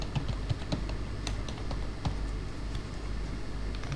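A password is typed on a computer keyboard, with soft, irregular key clicks in short bursts over quiet room noise.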